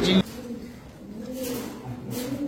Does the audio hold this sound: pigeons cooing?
yes